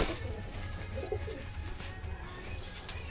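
Madras Giribaz pigeons coo softly, low murmuring calls repeating over a steady background hum in a loft setting.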